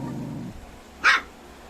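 A single dog bark rings out briefly over a low background hum, sharp and moderately close, at night in a household with pet dogs.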